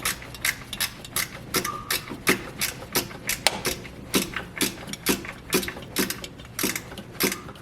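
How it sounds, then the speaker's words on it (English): Ratchet wrench turning a starter bolt on a 1987 Mazda B2200 pickup, a steady run of sharp, close clicking strokes repeating roughly every third of a second, with no talk over it. "So I got that wrench on there to get that starter bolt."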